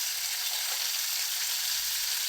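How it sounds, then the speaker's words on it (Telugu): Green chilies, curry leaves and onions fry in a pan for vegetable pulao. A steady, even sizzle continues unbroken, close by, with no talk. "మిగతా అన్నీ ఇక్కడ వేసేసుకుని కొంచెం వేగనిద్దాం."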